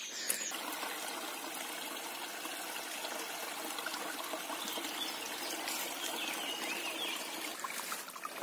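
A small, pretty stream trickles steadily outdoors, a continuous close wash of running water with no voices, holding even in level for the whole stretch.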